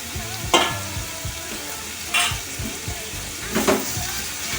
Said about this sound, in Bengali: এবার আমি এটা ভালো করে কষিয়ে নেবো।